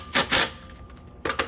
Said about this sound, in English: we are going to rattle these 1/2 inch latch bolts in.